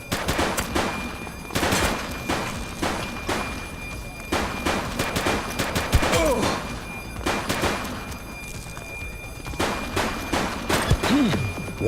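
Gunfire from the police video game The Precinct on PS5: repeated sharp shots and bursts crackle in quick volleys over the full span, with booming thuds and game sound effects in between.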